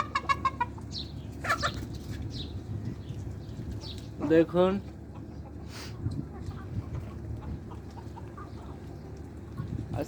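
Roosters cluck and call close by, their short bursts scattered over steady farmyard background noise, while a person talks throughout.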